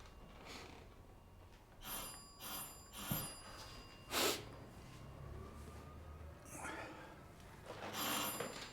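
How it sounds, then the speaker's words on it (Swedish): A doorbell rings in an apartment in a Swedish crime drama, sounding as several bright, bell-like rings spread over a few seconds, with brief speech and quiet indoor noise around them. "Det ringer på dörren."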